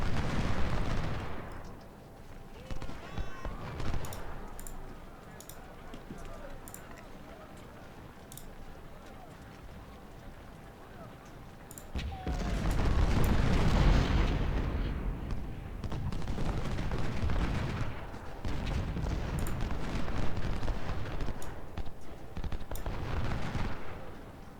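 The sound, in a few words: musket volleys and artillery fire in Ultimate General: Civil War video game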